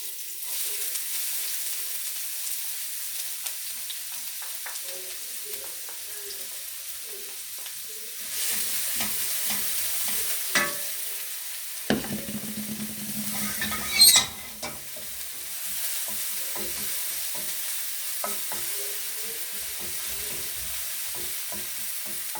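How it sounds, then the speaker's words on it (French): Onions searing and sizzling in hot oil in a pan, a steady close frying hiss with a louder burst as they hit the fat, followed by scraping stirs, for a risotto with Morteau sausage and onion confit. "Là, je vais mettre mes oignons à saisir."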